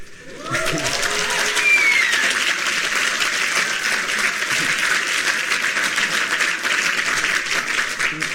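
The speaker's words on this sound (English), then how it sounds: "please withhold your applause for now" Steady audience applause fills a hall at the opening of a university internal medicine society's inaugural evening event. It swells in quickly after a brief quiet moment and stays dense and even to the end.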